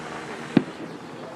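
A single sharp firework bang cracks out at an outdoor fireworks show, one brief loud burst standing out over a low, steady background murmur.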